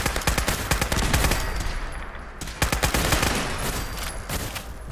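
A heavy-recoil gun in the video game Fallout 4 fires in rapid, sustained bursts of sharp shots, loud and close, with short pauses between volleys and no speech.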